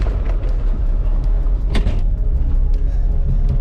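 A C4 Corvette with an LT4 engine driving on rough ground, its steady low engine rumble and road noise continuous and close, with a brief rattle partway through.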